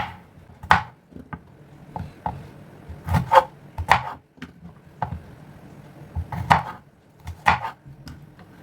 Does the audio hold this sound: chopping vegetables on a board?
yes